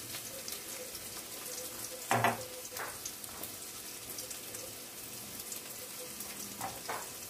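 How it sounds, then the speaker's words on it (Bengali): Cabbage fries in a tempering of whole cardamom and cinnamon: steady, close sizzling with a brief clatter of utensils partway through. "এবার একটু গোটা এলাচ আর দারচিনি ফোড়ন দিয়ে বাঁধাকপিটা চাপিয়ে ফেলি"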